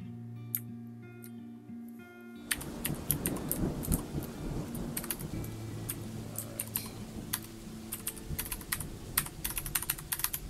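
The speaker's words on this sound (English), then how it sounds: "Alright, I had enough of listening to rain." Rain pours steadily in the video game Dwarf Fortress, with low thunder rumbling through it, while rapid, crisp computer keyboard typing clicks sharply over the top of the storm.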